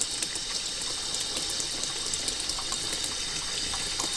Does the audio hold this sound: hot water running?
yes